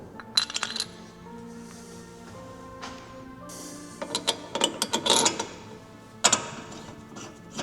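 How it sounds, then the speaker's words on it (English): Brake pads being fitted to a Porsche GT4 RS, with close metallic clinks, taps and rattles in irregular bursts separated by quieter pauses. "Just gonna pop the pads in."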